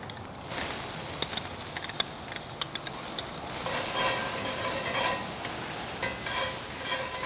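Red onions sizzle in a little oil on a Kamado Joe Classic II grill, a steady close hiss with occasional stirring clicks and pops that swells toward the end.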